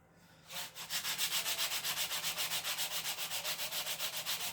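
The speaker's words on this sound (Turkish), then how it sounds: "Zımparalamaya devam." Sandpaper is rubbed back and forth over the wooden hull of a model ship, a close, regular rasping stroke about five times a second, steady and alone.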